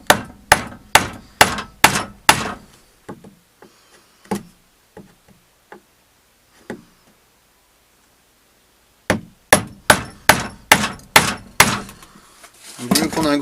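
Hand chiseling into wood to cut a dovetail joint for a reclaimed-wood kitchen door: sharp, close mallet-like strikes in a steady series, then softer scattered taps, a silent pause, and another run of loud blows.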